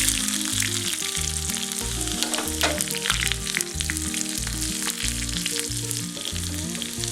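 Sliced small onions and mustard seeds fry in a tablespoon of hot coconut oil, a dense continuous sizzle with fine crackling pops, loud and close throughout, under a repeating background music tune.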